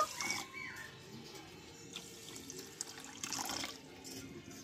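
Water is poured from a bowl into a pot on the stove to make sugar syrup with cardamom, giving a faint, brief splashing trickle that comes in two short bursts in a quiet kitchen.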